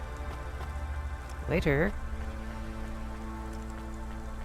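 Steady rain patters over a rainy restaurant scene in the video game Cloudpunk, a continuous hiss with faint drips, while a voice speaks briefly over it midway.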